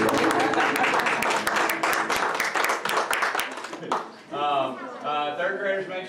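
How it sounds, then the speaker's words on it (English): An audience claps loudly for third graders at a school event, dense applause that fades after a few seconds as an adult begins talking over the last scattered claps. "another round of applause for our 3rd graders"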